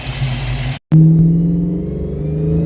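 A Mustang engine fitted with a QFT Slayer 750 carburetor runs loud and steady at close range, with a strong low rumble. A brief dropout interrupts it, then a slightly rising tone that slowly settles again.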